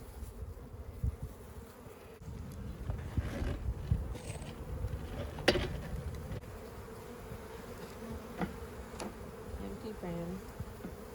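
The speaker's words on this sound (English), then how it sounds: "These bees are just hanging out." A steady low drone of many honeybees buzzing close by in a hive, with occasional soft bumps and handling noises.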